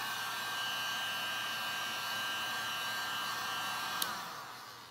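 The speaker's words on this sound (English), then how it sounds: "So, heat gun time, we'll be back after I melt this sucker." A heat gun blows continuously at close range while it melts plastic on a skull decoration, a steady airy roar with a constant whine that ends in a sharp click and fades.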